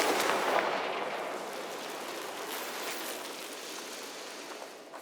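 Confringo fire spell blast from Hogwarts Legacy: a loud, broad crackling burst up front that rumbles on and slowly fades over several seconds, with no talk.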